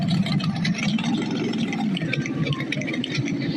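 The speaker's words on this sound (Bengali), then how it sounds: "ও বাইকের কি সাউন্ড!" A motorbike engine in a video game hums steadily at a mid pitch, loud and continuous throughout, with no speech over it.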